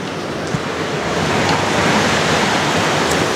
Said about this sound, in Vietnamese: Đó, gió này.